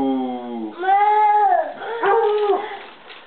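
A pet dog howls in a long, wavering, close-up howl that rises, breaks into a couple of yipping, whimpering swells, and then trails off at a loud level without any talk.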